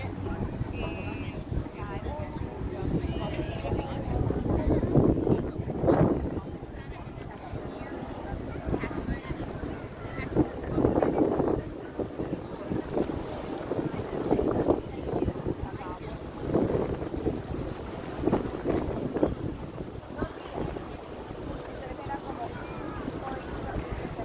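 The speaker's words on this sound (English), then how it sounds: "It's going to be windy here for just a minute." Gusty wind buffets the microphone at Magic Island, Hawaii, a steady low rumble with repeated louder surges, while a person talks intermittently over it.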